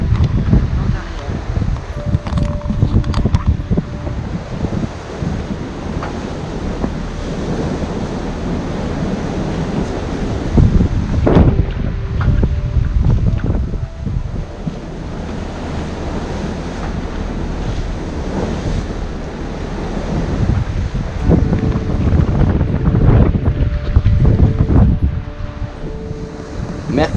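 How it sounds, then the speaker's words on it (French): Wind of about 20 knots from astern on a sailboat crossing the mid-Atlantic: a loud, continuous roar of wind buffeting the microphone, mixed with rushing waves. "Et voilà, il fait à peu près 20 nœuds de vent"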